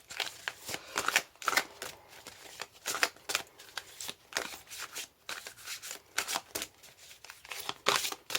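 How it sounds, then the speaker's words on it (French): Oracle cards are shuffled by hand in a quick, irregular run of papery riffles and flicks, close and fairly quiet, with no talking. "Hop, une carte. On va en tirer 3 avec l'oracle « Dis-moi que tu m'aimes »."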